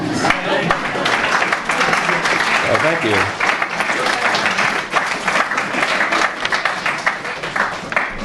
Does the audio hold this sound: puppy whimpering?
no